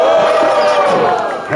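Crowd at a Brazilian rap battle cheering and clapping, a loud sustained roar of voices and applause throughout, fading slightly at the end.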